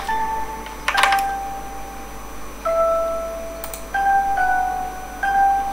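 Bell-like synthetic tones sound in AI-generated Mubert music, a few sustained pitched notes stepping between pitches over a soft, steady background with no voices.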